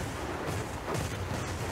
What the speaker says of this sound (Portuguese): Tem mais tiro.